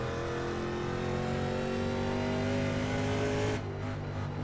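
A 1987 NASCAR Winston Cup car lapping in iRacing, its engine holding a loud sustained drone that climbs slowly in pitch, then eases off abruptly near the end.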